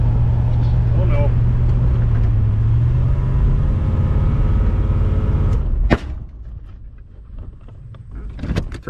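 A 1980 Pontiac Trans Am with a swapped-in 400 engine holds a loud, steady high rev from a stuck throttle, its droning pitch sliding slightly before cutting off sharply, with voices nearby.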